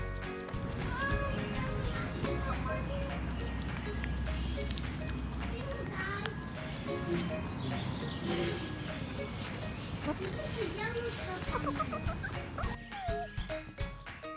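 Backyard hens cluck softly in the background over a steady low rumble, with scattered movement noises and faint voices now and then.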